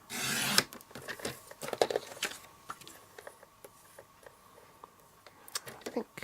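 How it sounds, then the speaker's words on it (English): A paper banner being trimmed for a card, with a brief burst of rough rubbing at the start followed by scattered small snips and crisp rustles, fairly quiet and close. "Trim my banner."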